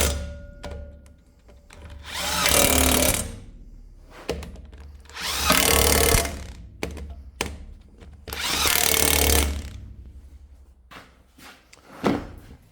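Power tools tighten bolts on skid steer engine mounts during an engine swap, three loud, close bursts of whirring and rattling separated by clanks and knocks of metal being handled.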